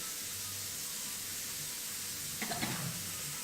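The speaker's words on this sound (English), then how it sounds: "today, I'll fill up my sink." Water runs from a faucet into a kitchen sink, a soft steady flow under background hum with a brief splashier burst near the end.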